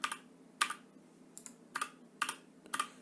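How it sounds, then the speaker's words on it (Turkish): Quiet keyboard typing picked up by a phone used as a microphone: a handful of separate key clicks and clacks at uneven intervals, close by, with a faint low hum underneath. "Hele klavyeye bastığım zaman"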